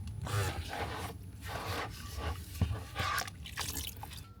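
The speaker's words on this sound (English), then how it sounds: "I just toss this water every chance I get." Sink greywater tossed out onto the ground at a campsite gives a short, close splash and dribble, mixed with rubbing and handling noises, with no talking.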